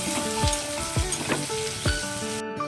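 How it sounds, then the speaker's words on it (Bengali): Potatoes and onions frying in a pan, a steady sizzle punctuated by several sharp scraping strokes of a stirring utensil in an uneven rhythm, close and fairly loud with no talk. "ভালো করে আলুর সাথে পেঁয়াজ নাড়তে থাকবো"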